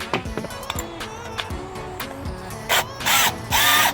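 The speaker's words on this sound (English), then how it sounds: "So let's go and fit this into our drill right now." A cordless power drill fitted with a spiral garden auger bit whirs in short bursts, spinning up and down, with clunks and knocks of handling between the runs; the final bursts are louder and longer.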